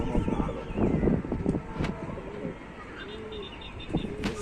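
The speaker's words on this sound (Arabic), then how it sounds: "مع فرد الحمام طاير وراك فرد حمام واقف معاه." Pigeons cooing and flying in a rooftop loft in Tanta, Egypt, low soft coos and wing flutters over a busy outdoor background with some traffic-like noise.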